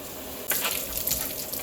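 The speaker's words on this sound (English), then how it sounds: "And then I fill it with hot water, scrub it, and rinse it out" Hot water gushes and splashes while a rabbit's water bottle is rinsed, starting abruptly and running as a steady bright hiss close up.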